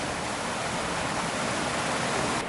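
Small waterfalls along Little Stony Creek on a wintry hike to the Cascades rush in a steady, dense wash of water noise, close and continuous with no talk.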